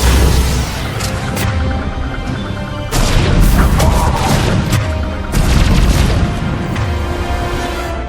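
Loud, dense sci-fi combat in Mass Effect Legendary Edition, with heavy booming blasts and rapid weapon fire crashing almost continuously and without pause over a sustained firefight.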